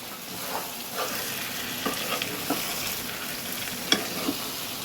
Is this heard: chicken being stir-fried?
yes